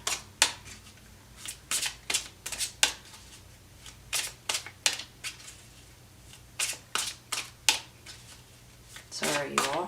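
Tarot cards are shuffled in quick bursts of crisp riffling and snapping, close and distinct, repeating in an uneven rhythm with short pauses between, as a voice speaks briefly at the end.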